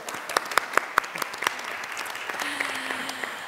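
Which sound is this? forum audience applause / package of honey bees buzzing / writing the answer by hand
forum audience applause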